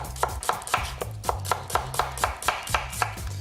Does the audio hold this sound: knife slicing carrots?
yes